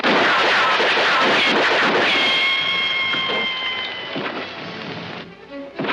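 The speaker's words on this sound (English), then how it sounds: "Shoot him, you clown! Shoot him!" A loud burst of rapid gunfire aimed at Superman in an animated comedy scene, with a dense volley of crackling shots followed by ringing ricochet whines that fade away into quieter scattered pops.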